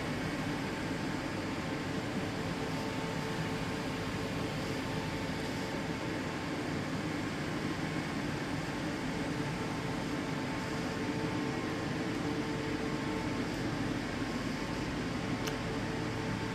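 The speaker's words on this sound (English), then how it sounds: "the sound you can hear in the background is the heaters going" Constant whooshing hum of church heaters running, an even broadband drone with no breaks, steady and moderately loud in a quiet room.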